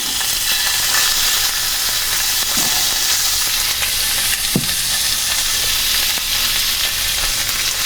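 Oil heats and is swirled in a pan while making Filipino bringhe, giving a steady, loud, close sizzle with a couple of brief clinks and no talking.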